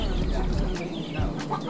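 Poultry hens in a rural Sikkim village cluck softly at close range in short, irregular calls, with low murmuring and ambient farmyard noise underneath.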